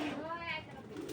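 A female racing pigeon, a youngster of Netherlands stock, coos in a short, close, moderately loud rolling call, with background noise around it.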